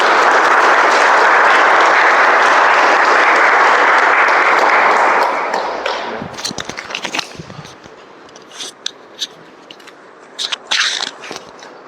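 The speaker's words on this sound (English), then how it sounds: "with a big round of applause, welcome to the stage, Toastmaster Piyush Khadgi." Applause from a Toastmasters audience welcoming a speaker to the stage at an impromptu speaking workshop: loud, dense clapping for about six seconds, then thinning to scattered claps and faint room noise.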